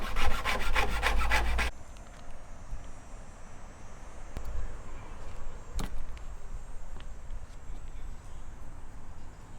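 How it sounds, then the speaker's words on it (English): A metal file rasps along the freshly cut edge of a hole in a van roof for a roof fan, a short burst of dense scraping strokes up front followed by quieter rubbing and a couple of sharp knocks. "just using a file and just filing down the exposed metal to make it a little bit smoother, not so sharp"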